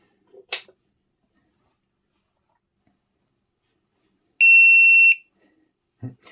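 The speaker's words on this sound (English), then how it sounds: "it always beeps the first time you turn it on" A single electronic beep from a SkyRC T100 dual LiPo battery charger switching on, a steady high tone lasting under a second, stands out in near silence between a few faint clicks and handling noises.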